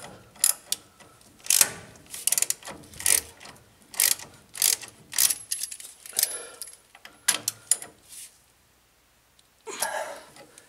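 A ratchet wrench tightening the top bolt of a steering stabilizer link on a 2005 Ford F250, giving repeated bursts of sharp metallic clicking with short pauses between strokes, close by.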